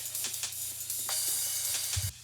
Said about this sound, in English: I've also got a ride coming in.